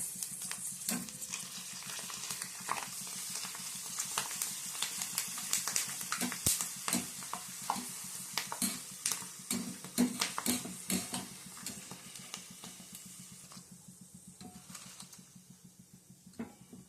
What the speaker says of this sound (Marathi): असे वेफर टाकून द्यायचे तेलात